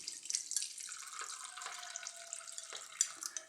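Homemade chili liqueur poured through a coffee filter and strainer, a steady close trickle of liquid with small splashes and drips, no voices.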